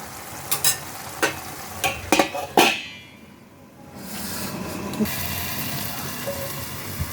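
Fenugreek greens frying in a covered pan, a steady close sizzle beneath a series of sharp stirring clacks, then a brief lull before the hiss resumes and continues evenly.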